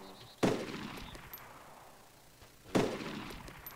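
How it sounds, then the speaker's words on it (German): Two loud, sharp gunshots in the video game DayZ Epoch, spaced about two seconds apart, each ringing out with a long decaying echo over quiet background ambience. "Hast du gerade geschossen?"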